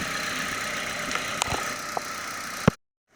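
A Mazda 6 four-cylinder engine idles steadily and close by with a fresh alternator, a continuous hum broken by a few brief clicks and a louder knock near the end before it cuts to silence.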